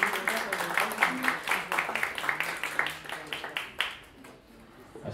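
Audience applause at a fifth-anniversary harp and jazz concert: a steady run of clapping from a crowd, fairly close and even, thinning and fading out toward the end.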